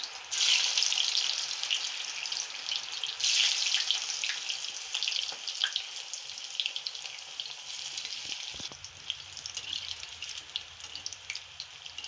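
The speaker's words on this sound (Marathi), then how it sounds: "गरम तेलात मस्त अशा तळून घेऊया." Cut squares of colocasia leaf rolls (alu vadi) frying in hot oil, giving a continuous bright hiss and crackle that stays fairly quiet and steady throughout, with no talking.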